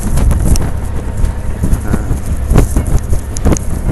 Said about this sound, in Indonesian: Ini mohon maaf, angin sangat kuat ya.